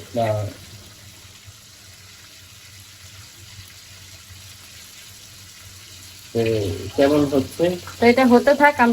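Food fries in a pan with a quiet, steady sizzle that holds for several seconds. People talking come in near the end and largely cover it.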